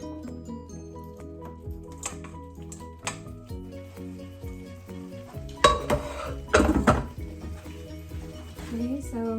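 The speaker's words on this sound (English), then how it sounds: "Sauce is ready, and now I'll add my pasta." Penne pasta being added to a garlic mushroom cream sauce in a pan, with pots and cutlery clattering, a stirring scrape and soft sizzle. Louder scraping bursts come in the middle, over steady background music.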